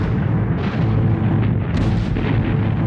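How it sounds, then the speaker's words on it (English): Great artillery guns fire in wartime, a dense, continuous rumble of heavy booms and blasts rolling together at high volume with no pauses. "Great artillery guns were directed from the air."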